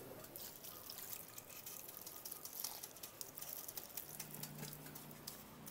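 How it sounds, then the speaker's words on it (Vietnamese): Water soaking into the soil of a potted bonsai during a thorough watering, a soft steady patter and trickle close by with scattered drips, no talk. "Tưới cho nó đẫm, thiệt đẫm luôn"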